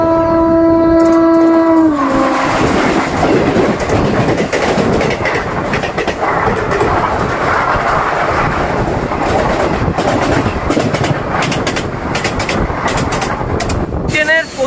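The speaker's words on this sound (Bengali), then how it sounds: "আর একদম পারফেক্ট টাইমে কিন্তু আমাদের ট্রেন ছেড়ে দিয়েছে" A passenger train running from Kolkata towards Jasidih Junction, with stops at Asansol and Madhupur. A brief horn-like tone opens, then a loud, steady rumble and rail clatter carries on close by, with occasional sharp clicks.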